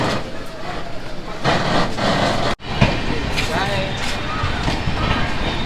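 The Kashi Express running on rails just after departure, a continuous rumbling, rattling roar heard from inside the train with rhythmic clatter and a brief sharp jolt midway; a person talks over it.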